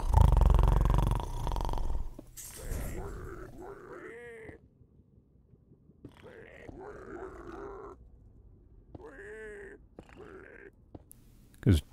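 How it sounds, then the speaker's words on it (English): A pet pig snorts and snores in a few rough, wheezy bursts between quieter pauses, close by, with a loud burst at the start and people talking around it. "likes making snoring noises"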